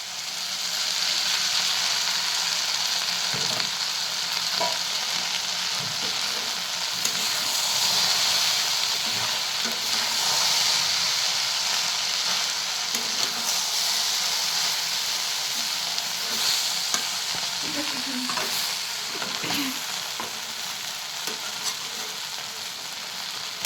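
Oil sizzles steadily in a pan for frying okra, a constant close hiss with faint scattered pops and a few light utensil clinks.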